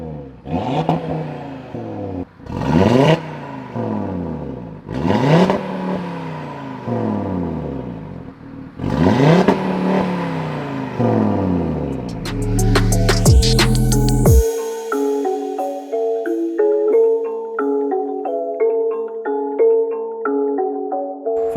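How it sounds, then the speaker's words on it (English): An Audi RS3 engine with a Milltek high-flow downpipe and Audi Sport exhaust revs hard in a series of loud, rising bursts, then settles into a rough, burbling idle with crackles from the throaty exhaust. "the Milltek high flow downpipe and the Audi Sport exhaust"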